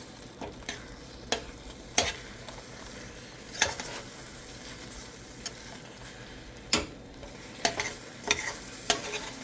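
Bread stuffing is stirred in a hot pan over medium heat, a constant low sizzle with sharp spoon scrapes and knocks against the pan at irregular intervals.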